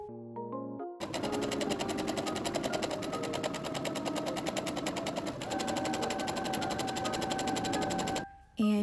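A sewing machine runs a long steady seam along the top edge of a summer Lolita dress to form an elastic channel, its close, fast, even needle rattle continuing almost the whole time after a brief musical opening.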